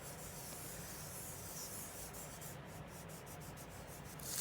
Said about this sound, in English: I can take my finger and start to just smooth it out